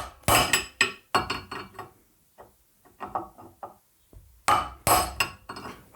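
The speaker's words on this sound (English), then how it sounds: "use a chisel and hopefully crack the bearing all the way through" A chisel hammered against a BMW R80 motorcycle bearing to crack it: sharp, close metallic strikes in quick clusters, with a pause mid-way before another loud burst of blows.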